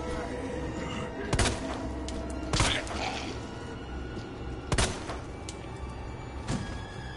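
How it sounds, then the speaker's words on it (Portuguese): Gunfire in Resident Evil 2 played on a PS5: four sharp, well-spaced shots ring out over a steady bed of in-game ambience, with no talking. "Mano, a gente deu 70 tiros na cabeça."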